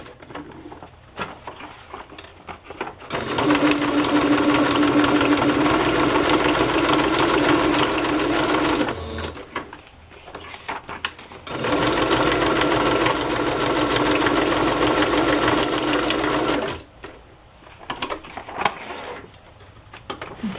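A sewing machine stitches a pocket onto a journal in two long, steady runs of fast mechanical whirring, separated by a short pause, with quiet handling noises before, between and after.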